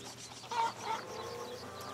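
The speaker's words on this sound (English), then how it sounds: "Chicken!" Chicken clucking in the video game A Plague Tale Requiem, two short soft clucks close by over a quiet steady background hum.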